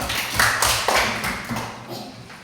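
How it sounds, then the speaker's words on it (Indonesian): Applause from a classroom group honouring presenting group 2 at a university teacher-training session, a brief burst of clapping of varied loudness that fades over a couple of seconds. "tepuk tangan sekali lagi untuk kelompok 2"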